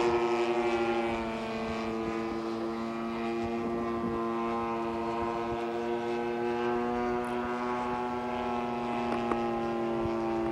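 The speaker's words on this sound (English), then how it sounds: "this P-40 just likes to go fast" A P-40 model aircraft flies at a large radio-control fly-in, its engine a steady tonal drone held at moderate distance for the whole stretch, slowly shifting in pitch.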